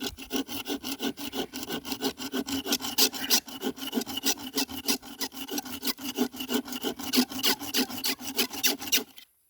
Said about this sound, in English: just start sawing